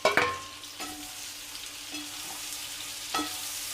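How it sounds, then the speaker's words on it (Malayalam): Onions with ginger, garlic and tomato are sautéed in a pan. A soft, steady sizzle runs under a few sharp scrapes of a stirring spoon, the loudest at the very start. "ഇനി നമുക്ക് സബോള ഇട്ട് കൊടുക്കാം. അതിലേക്ക് ഇത് ഇട്ട് നന്നായിട്ടൊന്ന് വഴറ്റിയെടുക്കണം."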